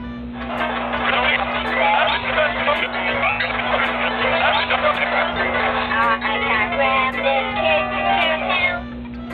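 Heavily sped-up version of a song from the Nintendo DS game WarioWare: Touched!, playing continuously and loudly with a dense, chipmunk-like texture for about nine seconds.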